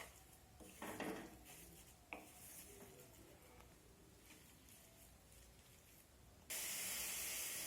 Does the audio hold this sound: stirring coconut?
yes